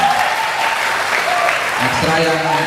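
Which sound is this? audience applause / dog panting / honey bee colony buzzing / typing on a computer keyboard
audience applause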